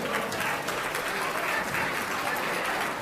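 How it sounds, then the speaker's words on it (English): Dense, steady applause from an audience honoring donors at a charity auction gala, a continuous wash of clapping that holds at an even level throughout with faint voices mixed in. "Let's give them a big round of applause."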